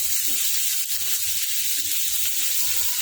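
Ginger and garlic frying in a pan for a tomato chutney give a steady, close sizzle and hiss that runs unbroken throughout, with faint stirring underneath and no talking.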